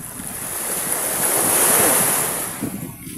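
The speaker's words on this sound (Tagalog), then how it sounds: "Yan yung dagat namin." Ocean waves roll and wash onto a shore by a seawall, a steady broad surf roar swelling in the middle, with some wind buffeting the microphone.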